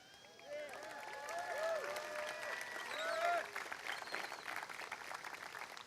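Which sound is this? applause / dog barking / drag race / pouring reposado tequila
applause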